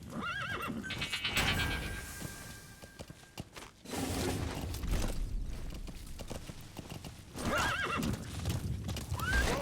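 A horse in a video game, Metal Gear Solid V, gallops with steady clip-clop hoofbeats and whinnies loudly twice, the sound full and close with a brief lull midway.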